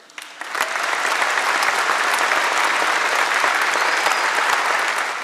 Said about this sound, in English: Let's also have a round of applause, most importantly, for the spouses and family members of our veterans.